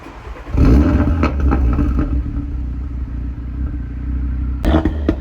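An Audi RS3 with a double resonator delete revs up with a deep, throaty exhaust roar, holds a rumbling idle, then blips again sharply near the end.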